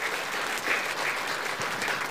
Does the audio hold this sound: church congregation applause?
yes